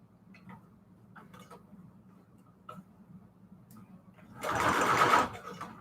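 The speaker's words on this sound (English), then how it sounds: "Let's sew it." Sewing machine stitching a strip of vintage label paper for a Christmas junk journal: faint ticks at first, then a loud, close burst of stitching lasting about a second before stopping.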